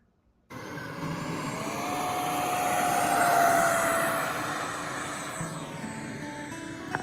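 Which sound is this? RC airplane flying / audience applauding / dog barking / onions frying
RC airplane flying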